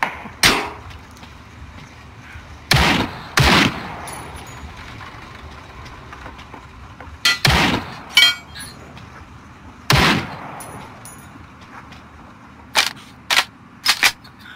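Gunfire in the video game Ring of Elysium: loud sharp shots come in short groups, some singly and some in quick pairs, spread across a quiet background.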